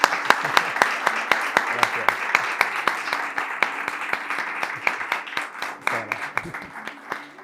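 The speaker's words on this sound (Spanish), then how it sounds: "un fuerte aplauso para Daniel" Applause from an audience for a guest on a talk show, sharp individual claps ringing out in a quick, steady rhythm at moderate loudness, with some voices faintly underneath.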